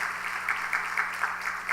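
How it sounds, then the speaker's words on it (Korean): Congregation clapping in a Korean church during a Wednesday evening service, a soft, steady patter of hands at moderate distance in a reverberant hall. "박수로 뜨겁게 축하하세요."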